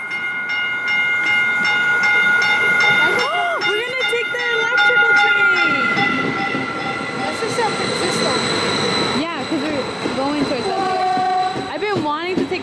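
A northbound local train to San Francisco rumbles into a station with rolling wheel noise and screeching brakes, squeals rising and falling, as people talk nearby.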